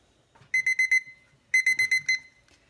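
A kitchen timer goes off while peaches are being canned, giving two quick bursts of four to five sharp, bright beeps each, close and loud in an otherwise quiet room.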